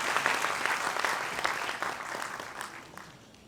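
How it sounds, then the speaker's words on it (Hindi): Applause rises from the crowd at a government event welcoming a cabinet minister, lively clapping with distinct sharp hand strikes early on that gradually thins and fades toward the end. "जोरदार तालियों के साथ हम स्वागत करेंगे इस नारी शक्ति"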